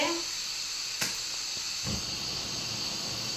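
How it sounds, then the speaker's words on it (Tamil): A kitchen gas burner is lit with a faint click, then hisses steadily and softly on its own throughout. "இப்போ கேஸை பற்ற வைக்கிறேங்க கேஸ் பற்ற வச்சுட்டு"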